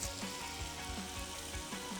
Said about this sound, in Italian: Ora faccio sfrigolare il tutto nella casseruola calda con l'olio.